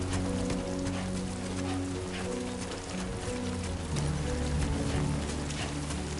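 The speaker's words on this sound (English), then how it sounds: "Rain. Gotta move." Steady rain in the Death Stranding 2 game world, a dense even hiss of falling drops on surfaces with low droning tones underneath, continuous and fairly loud throughout.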